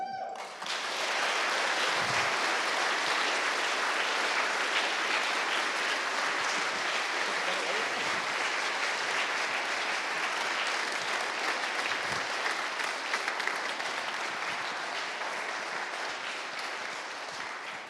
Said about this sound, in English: Can we get a big round of applause for these two?